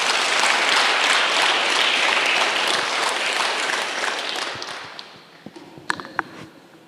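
A crowd at a blood-donation birthday celebration for a saint claps loudly and densely for blood donors. The applause fades out toward the end, leaving a few scattered claps.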